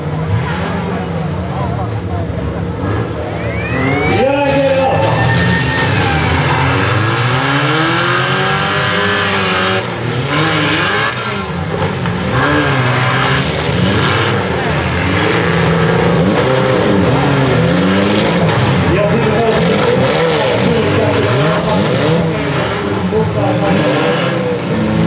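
Scrap cars at a rallycross race in Lahti Jokimaa rev and accelerate loudly, engines rising and falling in pitch over dense crowd and track noise, with a commentator talking throughout.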